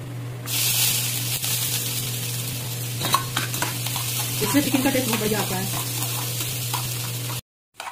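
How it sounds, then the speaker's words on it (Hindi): Steady sizzling and hiss of chopped onions frying in a hot pan, with occasional stirring scrapes and a voice briefly speaking over it. "अब जो मैंने चॉप प्याज लिया था उसको मैं इसमें फ्राई ब्राउन फ्राई करूंगी"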